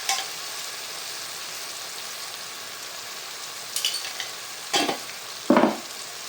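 Chicken curry being stirred in a pot as masala and salt are mixed in, a steady low sizzle with a few sharp scraping stirs near the end, close and alone without talk.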